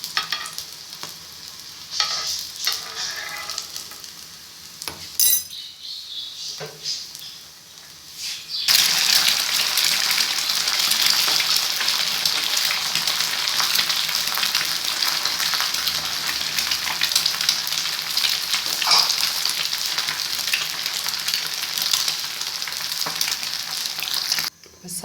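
Kebabs frying in a pan in a Pakistani village kitchen: after some quieter clatter, a loud, steady sizzle starts abruptly and continues close up for the rest of the time.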